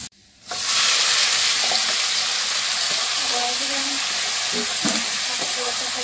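Spices frying in hot oil for a raw banana curry, a loud, dense sizzle that bursts in after a brief quiet start and holds steady with faint stirring scrapes.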